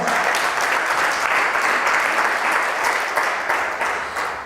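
A church congregation applauds in praise, a dense, loud and sustained wash of many hands clapping together, easing slightly toward the end.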